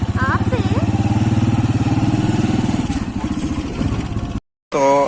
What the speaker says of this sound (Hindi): हमारी तो फिर भी मोटर बाइक गाड़ी है।